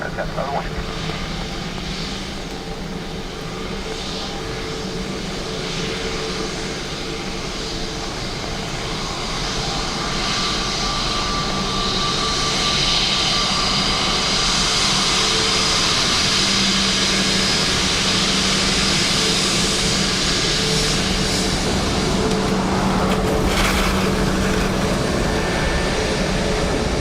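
A plane lands on runway 2 at Dublin Airport in wet weather, its engine roar rising steadily into a loud, sustained rumble, with a voice speaking over it.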